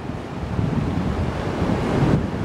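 Big ocean waves break and surge at Carmel Beach, a loud, continuous roar of surf with gusty wind buffeting the microphone throughout.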